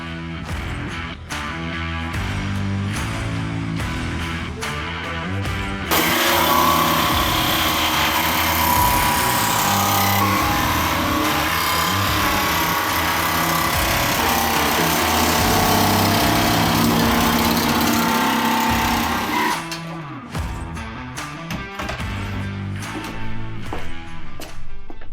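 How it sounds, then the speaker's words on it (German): An electric jigsaw cutting a motorcycle windshield for a 35-year-old BMW, a loud continuous buzzing rasp that runs for about fourteen seconds, close by, framed by quieter workshop handling noises before and after, with no talk. "Ich säge das jetzt hier mit der Stichsäge aus."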